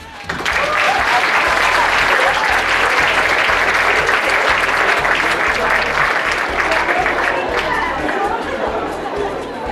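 Loud, sustained audience applause fills a stand-up comedy show, steady clapping from a crowd with chatter mixed in for nearly ten seconds.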